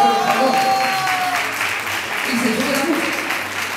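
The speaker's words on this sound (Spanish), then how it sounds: "El aplauso" Sustained applause from a crowd fills a hall at a ceremony, a dense even clatter of clapping that runs throughout with a voice faintly over it.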